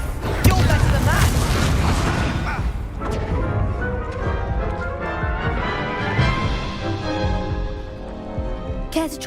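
A Confringo spell explosion in a Harry Potter video game bursts with a loud crash and boom, followed by rumbling, ringing debris that fades, with a voice speaking around it.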